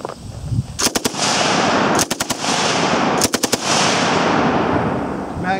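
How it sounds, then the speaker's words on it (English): ZB-30 light machine gun firing short rapid bursts down to the end of its magazine, three sharp loud clusters of shots echoing over a sustained roar outdoors. "So we'll burst off the end of the mag."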